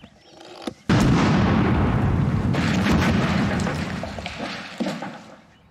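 A bomb set off with a plunger and wire beside a garden shed: a sudden loud blast after a brief quiet, then a long rumbling roar of debris that slowly fades, with a smaller burst near the end.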